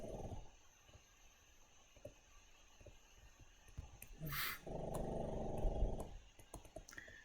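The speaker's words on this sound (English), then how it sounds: "There's my dog again, snoring away." A dog snores softly nearby in a quiet room, low rumbling breaths rising and falling, growing louder toward the end.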